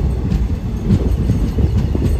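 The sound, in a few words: Latur–Pandharpur special train running on the rails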